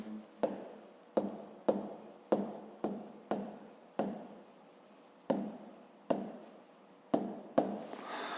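Pen or pencil scratching out a fifth-grade math answer on paper, in about a dozen short close strokes of even rhythm, each a quick scrape that fades, with no talking.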